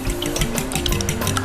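Eggs are whisked briskly in a bowl, a quick busy patter of clinks and sloshes that runs without a break for a moment.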